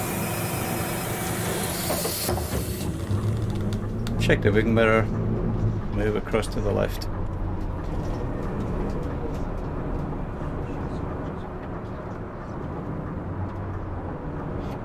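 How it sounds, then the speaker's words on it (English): In The Bus video game, a Berlin city bus on Line 100 idles with its doors open, letting a low, steady engine rumble come through more loudly beneath continuous talk from a nearby man. "the doors are open, you hear the noise of the engine actually comes through a lot"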